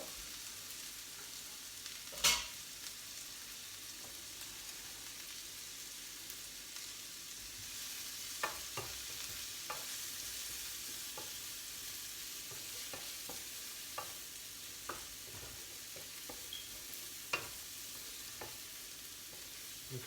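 Leeks cooking in butter in a frying pan hiss with a steady, even sizzle throughout, broken by occasional light clicks and scrapes of stirring, close and without talk.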